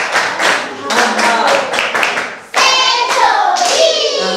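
Classroom pupils clap for a classmate in bursts of close, sharp handclaps, a brief lull, then a second louder round of clapping.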